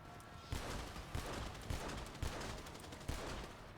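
Gunfire in the video game GTA 5 rattles in a dense, noisy stream with several sharper shots standing out at roughly half-second intervals.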